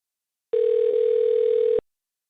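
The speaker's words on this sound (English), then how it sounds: "Oh, it stopped ringing." A single telephone tone sounds during a call, one steady electronic beep lasting just over a second, loud and clean against silence before and after.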